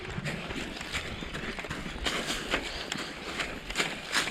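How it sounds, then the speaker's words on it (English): Quick rustling thumps and crackles as a small feral boar dashes through dry brush in the Australian bush, the faint scrambling steps rising and falling close by. "that was a feral pig by himself, little boar"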